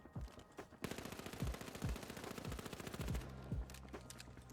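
XP54 gun firing in the video game THE FINALS, a rapid automatic burst of evenly spaced sharp shots that runs for several seconds, ending in a few final pops, with no voices.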